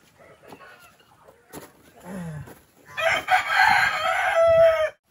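A farm rooster crows loudly and close by in one long call near the end, after softer clucks and a few faint rustles.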